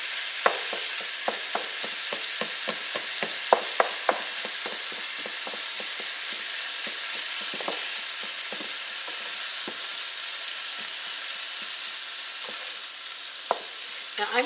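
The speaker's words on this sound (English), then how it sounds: "Now I'm going to saute this until the turkey is completely cooked" Ground turkey and onions sautéing in a pan, a constant bright sizzle with frequent sharp ticks and spatula scrapes that thin out over time, close and uninterrupted by speech.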